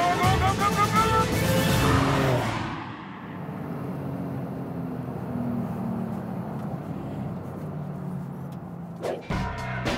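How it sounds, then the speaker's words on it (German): Porsche 911 Sport Classic driven hard, its engine roaring loudly with a sharp gear change in the first seconds, then settling into a steady drone; someone speaks briefly over it. "sensationelle Maschine, dieser Porsche 911 Sport Classic"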